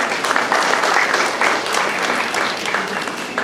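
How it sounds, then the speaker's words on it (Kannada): Loud, dense applause from an audience honouring a guest with decades of theatre, television and film work at a children's education trust event, steady and sustained throughout with no talk over it. "ಇವರಿಗೆ ಒಂದು ದೊಡ್ಡ ಚಪ್ಪಾಳೆಯನ್ನು ಕೊಡೋಣ."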